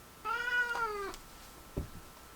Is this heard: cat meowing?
yes